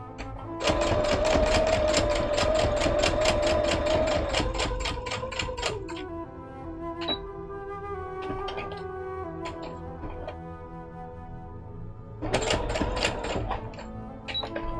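A sewing machine stitches cosplay fabric in rapid mechanical bursts with a rhythmic whirring chatter, pausing midway with quieter clicks and hum before starting up again, close and loud.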